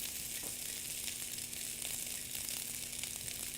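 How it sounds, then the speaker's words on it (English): Beef and shrimp fried rice made with pre-cooked basmati sizzles in a pan over lower heat, a steady close hiss of frying that continues evenly throughout with no voices. "I want to cook in a lower heat."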